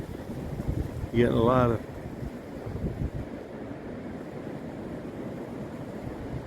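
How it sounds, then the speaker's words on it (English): Wind gusting across an Appalachian ridge on a hiking trail, a steady rushing roar buffeting the microphone throughout, with a voice speaking briefly near the start. "it's hard to tell with the wind blowing"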